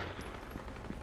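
Gunfire in Fortnite, a handful of faint, scattered shots spread unevenly across a brief moment, with no voices.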